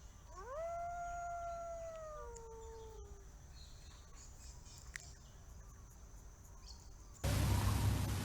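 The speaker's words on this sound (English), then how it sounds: "There's a wolf in my garden." A wolf howls in a garden, a long rising then falling call lasting about three seconds over faint insect chirps, followed by quiet ambience and a burst of noise near the end.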